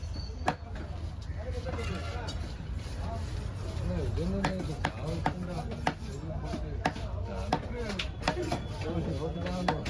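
Knife chopping through a giant trevally fish at a busy Kasimedu fish market: repeated sharp, irregular cutting thuds up close, with people talking and market bustle underneath.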